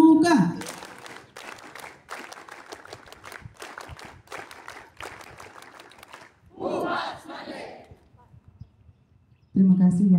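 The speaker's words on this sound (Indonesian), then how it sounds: "2 kali tepuk pramuka." Students at a morning school assembly perform rhythmic Pramuka scout clapping in sharp, synchronized bursts, with shouted group calls and a voice speaking around the claps.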